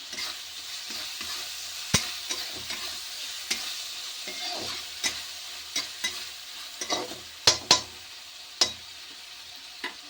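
Chopped tomatoes fry in a pan for potato and pea curry, a steady sizzle under repeated sharp spoon clicks and scrapes against the pan, close and moderately loud, with no talk.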